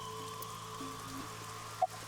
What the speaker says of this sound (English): Well, the rain is awful, huh?